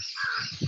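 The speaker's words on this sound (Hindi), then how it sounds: "अरे कौवा" A crow caws briefly during an indoor class session, a single short rough call heard clearly over faint background noise.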